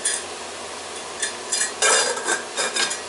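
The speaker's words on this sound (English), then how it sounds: "we'll stir it every so often" A spoon scrapes and clinks inside a simmering pot of stuffed cabbage, in short irregular bursts of stirring over a low bubbling background, close and fairly loud.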